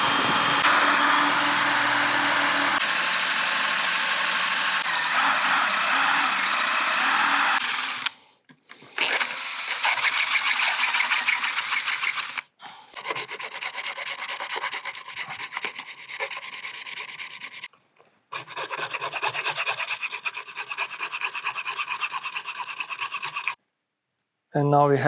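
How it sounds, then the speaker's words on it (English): A drill bores through the plastic airbag connector of a BMW E39/E46 M5 steering wheel, a harsh broadband grinding that runs steadily for several seconds, then comes in shorter bursts separated by pauses, close up, with no one talking. "It needs to be drilled from this side to this side."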